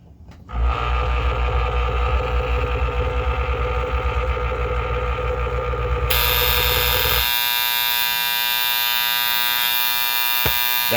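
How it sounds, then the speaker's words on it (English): A malfunction alarm on a septic aerator buzzes steadily over the unit's motor hum, then the tone shifts to a higher, harsher buzz partway through, loud and continuous with no talking. "That's the alarm to let you know that there's a malfunction in here."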